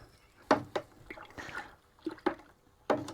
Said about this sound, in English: all I'm doing now is just pouring in my grains